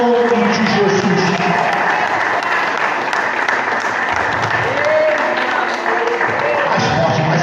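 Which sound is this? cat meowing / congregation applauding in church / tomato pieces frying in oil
congregation applauding in church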